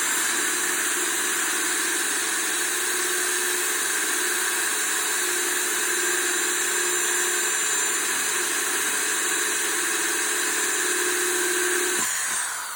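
An electric drill, running at low speed with a bit drilling into glass, whines steadily and evenly for a long stretch, close and loud, then cuts off near the end.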